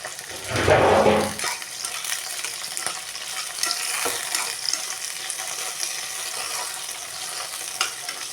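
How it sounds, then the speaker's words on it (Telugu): Tomatoes hit a hot frying pan with a loud sizzling burst, followed by steady crackling frying and occasional stirring clatter, with no voices. "ఇప్పుడైతే టమాటాలు వేసేసుకుంటున్నాము"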